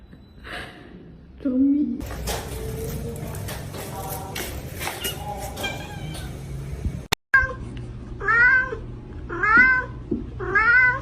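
A cat meows several times in rising, wavering calls, close and fairly loud, mixed with people talking and some background noise, with a short cut partway through.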